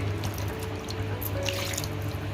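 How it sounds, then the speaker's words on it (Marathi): Water pours and trickles steadily into a vessel, with a few small splashes and drips, fairly close and with no voices. "त्याच्यामध्ये एक ग्लास पाणी टाकायचं"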